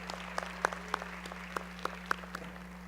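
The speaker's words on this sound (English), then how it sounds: "a round of applause for all of their great leadership this year" A university commencement audience applauds at a December graduation ceremony, a thin, fairly quiet patter of clapping with a few louder individual claps standing out over a constant low hum from the hall's sound system.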